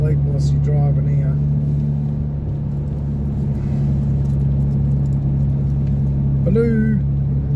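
A car cruises along a road near Kalamunda with a steady engine rumble and road noise throughout, close and continuous, while someone talks over it.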